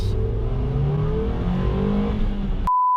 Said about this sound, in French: Ça c'est l'accélération quand on montait jusqu'à 6 tours minutes.